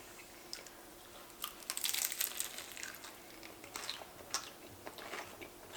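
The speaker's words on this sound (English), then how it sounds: "Oh my goodness, it's so crunchy." Cheese taco shell crunched and chewed up close, a few crisp bites followed by quieter mouth sounds, fairly faint with no talking.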